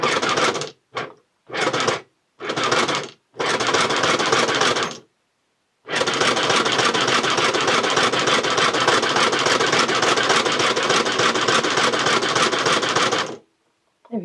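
A 1960s Singer Junior Miss toy sewing machine stitches in a busy, loud mechanical whir, first in several short start-stop runs, then one long steady run of about eight seconds before stopping.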